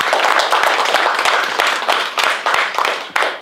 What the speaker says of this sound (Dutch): Nogmaals echt een applaus voor iedereen die hierbij heeft geholpen.